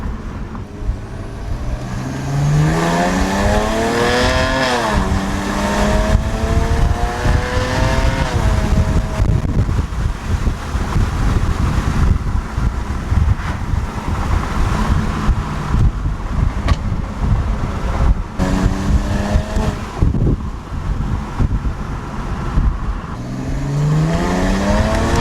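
A tuned BMW 335i drives hard along a mountain road, its engine climbing through repeated revving pulls and shifts over steady wind and road roar, loud and close throughout with no talk.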